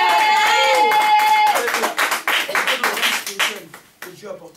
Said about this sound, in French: Est-ce qu'on peut acclamer les gens très fort?